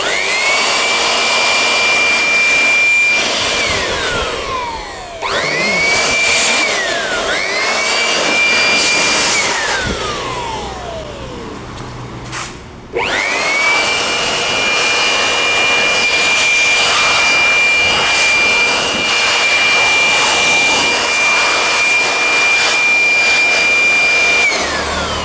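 Brand-new electric air blower cleaning out a decade-old desktop PC, a loud steady high-pitched whine running almost continuously, dipping and restarting a few times with brief pauses, spinning the case fans like a turbine.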